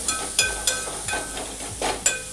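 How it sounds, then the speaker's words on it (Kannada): Ivy gourd curry with salt and spice powder mixed in a pan, a spoon scraping in about seven distinct strokes over a soft sizzle, close and fairly loud, no talking. "ಇವಾಗೆಲ್ಲ ಸೇರಿಸಿ ಒಂದು ಸಲ ಮಿಕ್ಸ್ ಮಾಡ್ಕೊತೀನಿ."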